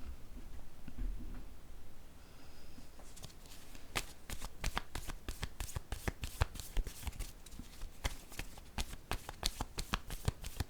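Tarot cards are shuffled close up in quick, crisp riffling bursts, starting quietly and settling into a fast run of repeated snapping flicks.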